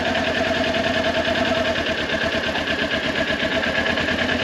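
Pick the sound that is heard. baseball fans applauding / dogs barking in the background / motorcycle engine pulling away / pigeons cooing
motorcycle engine pulling away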